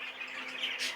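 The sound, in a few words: young cinnamon cobalt bird squawking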